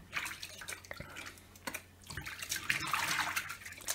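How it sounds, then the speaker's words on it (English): Hands are washed with Swarfega hand cleaner under a running tap after a motor scooter oil change, giving quiet close splashing, dripping and rubbing in uneven bursts with no voices. "I'm just going to wash my hands with some Swarfiga"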